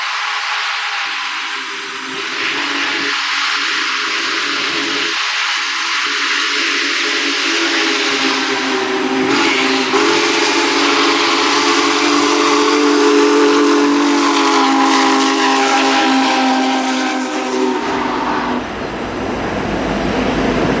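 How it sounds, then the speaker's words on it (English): A loud, steady hiss of venting steam from a pump or vent house on Union Pacific steam locomotive 4014 fills the air, broad and continuous, with a sharp whistle-like tone and mechanical rumble building underneath before tapering off. "a hissing mess of a pump or vent house"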